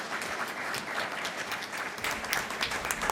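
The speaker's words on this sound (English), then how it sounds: "A big round of applause to the panelists" Audience applause for panelists at the close of a book fair session in Delhi, a dense, continuous clapping from a crowd that carries steadily and grows slightly stronger toward the end.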